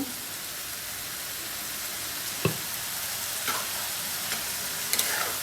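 Egg frying in hot oil in a pan alongside snake gourd, a constant loud hissing sizzle with a few sharp utensil taps and clicks against the pan, no voices.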